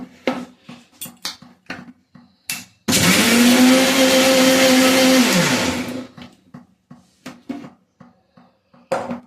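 Three eggs, white oil and vinegar whirl in a kitchen mixer grinder for a roughly three-second burst of loud motor whine. Light clinks and taps of dishes and utensils sound before and after it.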